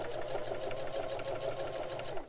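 A sewing machine running steadily at a slow pace, stitching cotton binding onto a quilted oven mitt, with an even, rapid mechanical whir and clatter close to the microphone.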